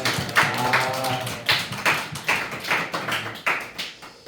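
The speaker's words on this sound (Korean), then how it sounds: "자, 박수 어쨌든" A small congregation at a youth church service claps in a light, uneven burst of individual hand claps, each distinct and close, fading after a few seconds without talk.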